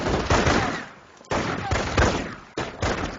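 A machine gun bunker firing at riflemen in a real-time strategy game, sharp bursts of automatic fire in three loud groups separated by brief gaps.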